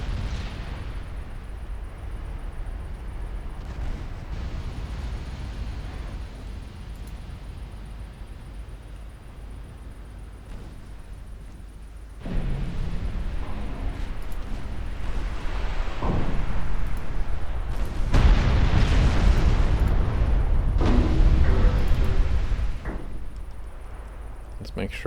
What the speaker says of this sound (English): she seems to want to fire AP out of her 6-inch guns